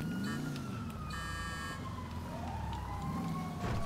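A wailing fire truck siren in the video game GTA V, with rising and falling tones over a steady low engine rumble, loud and continuous throughout.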